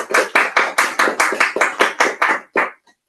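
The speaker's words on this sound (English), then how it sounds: "A big round of applause for Toastmaster Trivia again." A short round of applause at a Toastmasters club meeting: about a dozen distinct, evenly spaced claps, close and fairly loud, ending with a final clap and silence.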